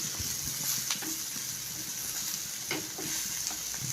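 Dried fish frying in a pan with chili and onion, giving a steady, faint sizzle throughout, broken by a few light stirring clicks.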